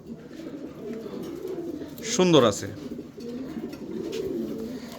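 Fancy pigeons at a farm give a single clear coo in the middle, set against a low murmur of other birds, while someone speaks briefly nearby.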